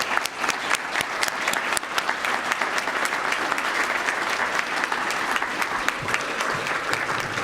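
Sustained applause from an audience at a human rights awards breakfast, dense steady clapping filling the room for several seconds with scattered sharper claps standing out.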